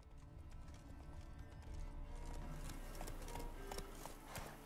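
A horse gallops in The Witcher 3 video game, with rapid, rhythmic clip-clop hoofbeats that hold a steady pace against a low background rumble.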